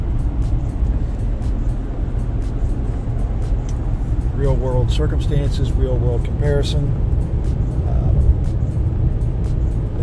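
Inside a 2019 RAM 1500 Limited pickup cruising at 77 mph, a steady low road and engine rumble runs beneath someone talking throughout.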